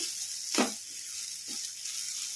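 White sesame seeds and fenugreek leaves frying in a pan give a steady, soft hiss of sizzling, with a couple of brief stirring scrapes over it, close and fairly quiet.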